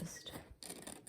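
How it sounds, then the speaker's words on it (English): Big pair of scissors slicing through card stock for a tea and biscuits pouch, a short close rasping cut, a brief pause, then another quiet scraping snip. "just grab a big pair of scissors for this one."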